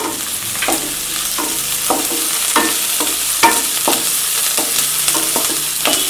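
Vegetables with carrot are stirred and fried in a pan for spiced Maggi noodles, a soft steady sizzle broken by repeated scraping strokes of a spoon against the pan at a loose, unhurried rhythm.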